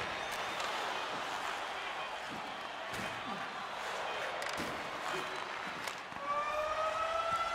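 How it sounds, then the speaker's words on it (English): In the NHL 23 video game, a loud goal siren wails over steady arena crowd roar, rising and holding as a sustained tone during the last second and a half. "Ooh, I like that siren."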